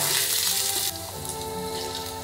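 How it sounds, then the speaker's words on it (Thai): Blanched pork liver stir-fried in a hot pan, with a loud, dense sizzle that drops to a steadier, softer frying hiss about a second in. "ผัดเล็กน้อยให้มีกลิ่นหอมอ"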